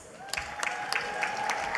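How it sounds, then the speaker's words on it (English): An audience at a National Heroes Day awards ceremony claps, with soft scattered applause in a large room and a few sharper individual claps. "Big round of applause there for Mr. Alan Miles."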